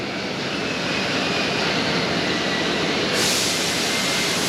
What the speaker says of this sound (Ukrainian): Ну а Тут бензовоз працює